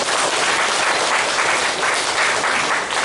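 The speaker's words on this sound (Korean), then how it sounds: "감사의 박수를 부탁드리겠습니다." A church congregation claps in thanks during a Sunday worship service, dense, steady applause filling the room, loud and even throughout without talk.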